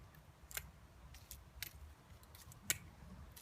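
Pruning shears snip through willow branches outdoors in a valley, giving a few sharp, faint clicks spaced irregularly over low rustling background noise.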